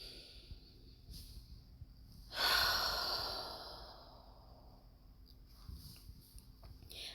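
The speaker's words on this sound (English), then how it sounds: "I'm going to take a moment to breathe." A single deep breath, one long audible exhale rising abruptly midway and slowly fading, close and fairly quiet, with softer breathing noises before and after.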